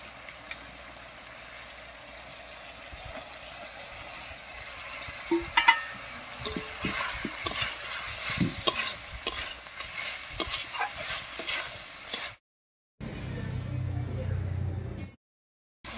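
Fried eggplant is stirred into potatoes and spices in a pan, with close scraping and stirring strokes over a soft sizzle, brief pauses, then a louder rumbling fry near the end, and some speech at points.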